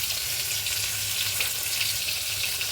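A tempering of whole spices sizzles in hot oil for a katla fish curry with tomato, producing a dense, steady, close frying hiss throughout with no talking.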